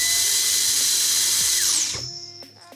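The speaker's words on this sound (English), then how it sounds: "In that case, I found useful to use a Dyson at full speed," A Dyson vacuum cleaner running at full speed to clear broken silicone from a Spice Caliente pizza oven gives a loud, steady high-pitched whine, then winds down with a falling pitch and fades out near the end.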